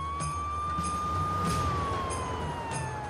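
An ambulance siren sounds at a military base, a steady wailing tone that slowly rises and then falls, heard alone over low background rumble.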